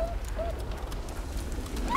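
A dog in the World War I game Valiant Hearts giving a few faint, short whimpering whines, spaced apart over a low background rumble.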